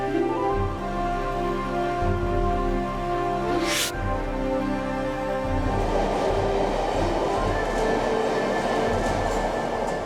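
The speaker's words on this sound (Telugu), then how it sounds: "వావ్, మెట్రో ట్రైన్ చాలా బాగుంది కదా, గాల్లో తేలుతున్నట్టుంది" A metro train in the video game Rudra: Dawn of the Dangerous Dongreela, a steady rumbling hum with tonal whine and a brief rising whoosh, then a rushing rolling noise as it speeds along.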